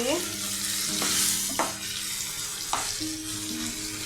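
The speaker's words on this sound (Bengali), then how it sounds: "লবণ দিয়ে মশলাটাকে একটু কষিয়ে নিই" Ginger and spice paste frying in a pan with salt, a steady broad sizzle broken by a few stirring scrapes and clicks from a spoon, close and fairly loud with no talking.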